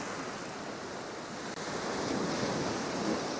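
Sea waves surge and break against rocks at Prussia Cove in Cornwall, a steady broadband wash of surf with wind rumbling across the microphone, swelling slightly louder in the second half with no voices.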